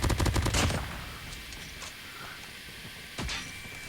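A Peacekeeper shotgun fires in a video game, opening with a loud burst of rapid blasts, then quieter ambience and a single later shot.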